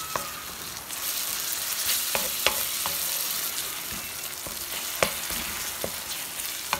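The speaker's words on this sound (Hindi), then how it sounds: "एक मिनट इसको हम फ्राई करेंगे, इसका हल्का सा कच्चापन ख़त्म हो जाए।" Steady sizzling of garlic ginger paste frying in a hot pan, with occasional sharp scrapes and clicks of stirring, close up.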